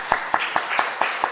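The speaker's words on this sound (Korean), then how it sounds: "환영의 박수 한번 주시죠." A church congregation gives welcoming applause during a Sunday service: six evenly spaced, crisp claps in a quick steady rhythm, close and moderately loud, over a brief moment.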